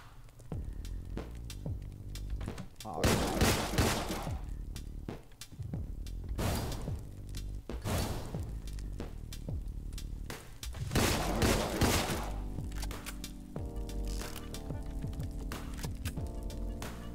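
Gunfire in the video game Deadbolt, a few loud bursts of shots against a steady musical background, with quieter sharp hits scattered between them.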